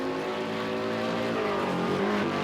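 Several Group 5 racing car engines in the video game Project Cars 2, at Long Beach, whine loudly together in a continuous layered roar, pitches shifting slightly as they pass.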